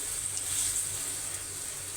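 Fish and water added to a hot pan, producing a soft, continuous sizzle and bubbling hiss at moderate level without any talking.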